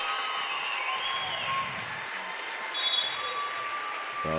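A gym crowd applauds two senior players at a girls' varsity high school basketball game. The clapping is steady and fairly distant, with a few sharp tones and squeaks on top.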